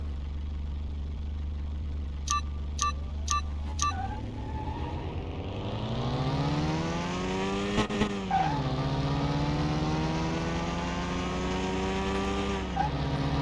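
A Toyota Supra engine in Car Mechanic Simulator 2021 idles low after a few short clicks, then revs hard with pitch sweeping up, drops back briefly, climbs again and falls off near the end, loud and close with no voices.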